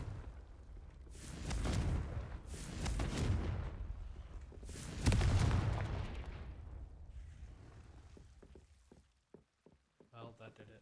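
Confringo blasting curses explode in Hogwarts Legacy, three heavy booming blasts with crackling, rain-like debris tails, followed by quieter scattered clicks and a short game chime near the end.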